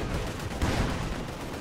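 A ZiS gun fires in a war video game, one heavy thump booming out of a constant bed of distant battle noise.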